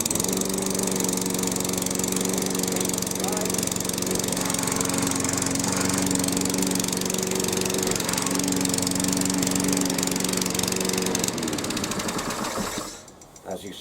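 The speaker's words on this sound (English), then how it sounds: "it may start if I push it twice this time, because obviously the lawnmower is still cold" A petrol engine on a Hyundai HYM430SPE self-propelled lawn mower, still cold, runs steadily and loudly up close with a droning hum, then cuts out near the end, leaving a brief quiet.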